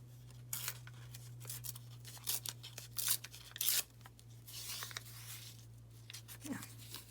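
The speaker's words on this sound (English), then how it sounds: "I am going to go ahead and tear the edge on this one." Coffee-dyed paper card base for a vintage-style journal card being torn along its edge by hand, quiet bursts of ripping and rubbing in short bursts over a steady low hum.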